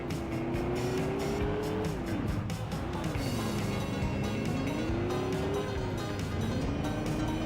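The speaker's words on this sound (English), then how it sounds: "Get close to the pickup and overtake. Get close to the van and overtake." In a PS2 racing game, car engines drone steadily, their pitch rising and falling as the cars race and overtake, with a dense, constant roar throughout and no talk.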